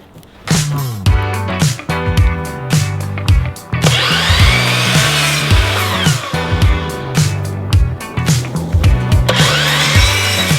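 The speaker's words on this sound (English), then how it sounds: "After making a quick cut with my miter saw, I headed back inside." A miter saw cuts through wooden shiplap-type boards in repeated loud bursts: the motor whines up, bites into the wood with a rough buzz, then spins down between cuts, with scattered knocks and clatter of handling.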